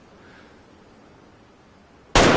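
A single loud, sharp rifle gunshot from the hunting video game Way of the Hunter bursts out at the very end after a few seconds of near silence.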